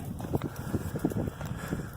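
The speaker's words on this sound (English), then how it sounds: "It's awful windy today." Strong wind buffets the microphone outdoors at a bottle-digging site in March, producing a steady low rumble and gusty roar that fills the clip with irregular surges.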